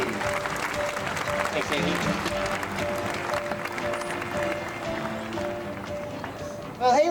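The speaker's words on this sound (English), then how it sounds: "Ladies and gentlemen, how about a nice round of applause for our trainer, Haley?" An audience at a 1997 SeaWorld show claps for trainer Haley after her work with the orca Namu, a sustained mass of applause from the stands under a briefly speaking announcer's voice.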